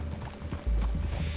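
Horse hooves clip-clop on the ground in the video game Red Dead Redemption 2, a few close, heavy footfalls with a low thud as a horse moves, set against outdoor ambience.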